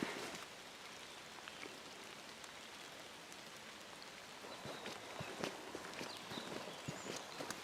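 Steady rain falling on a forest trail in Bohemian Switzerland, a soft constant patter with scattered sharper drips and a few footstep-like taps, fairly quiet throughout.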